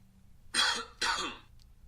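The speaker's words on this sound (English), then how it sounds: "Why did that sound exactly like me coughing?" Two short, harsh coughs close to the mic, about half a second apart, with near silence before and after.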